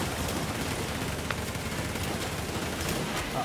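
Video game gunfire, a continuous faint crackle of rapid shots with a few sharper reports standing out, steady and distant throughout.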